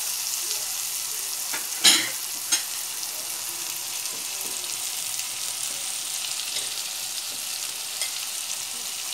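Onion frying in a pan with a steady broadband sizzle throughout, broken by a sharp stir or scrape near the start and a smaller knock shortly after, no voices.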